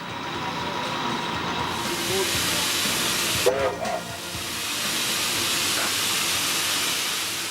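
A mainline steam train on an empty run toward Masterton gives off a loud, continuous hiss of steam, with a short whistle-like tone midway and a low chuffing rumble as it moves off.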